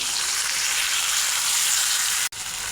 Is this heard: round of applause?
no